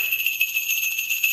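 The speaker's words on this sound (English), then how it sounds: "so he can still hear that bell ring today" A small sleigh bell from Santa Claus rings on its own in a steady, shimmering jingle, bright and continuous with a quick pulsing tremor throughout.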